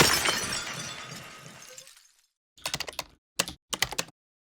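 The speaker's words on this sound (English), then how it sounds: "apply enough pressure to any clay object, and it will, inevitably," Clay pottery shatters in a loud crash with a long rattling decay, followed after a pause by several sharp clattering bursts of fragments.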